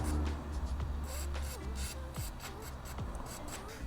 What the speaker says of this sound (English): I'm going to put some silicone spray here just to make it a little bit easier.